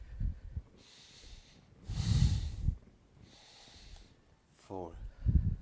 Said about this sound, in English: Inhale forward, exhale back.